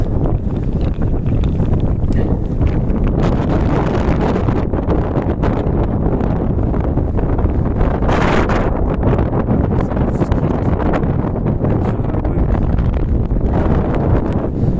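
Strong wind by high mountain lakes in Velká Studená dolina, Slovakia, buffets the microphone in a steady, loud roar that persists throughout, with gusts swelling and easing and no voices.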